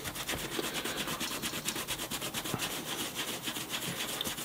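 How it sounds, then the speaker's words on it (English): Old Dr. Martens leather boots get buffed with a microfiber cloth or brush, producing brisk rhythmic rubbing strokes repeated steadily at close range, scratchy and even with no talking. "I'm gonna start just buffing this up a bit. You can either do it with a microfiber cloth."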